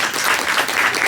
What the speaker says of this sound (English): One applause to Miss Anna.